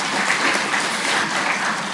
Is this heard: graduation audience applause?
yes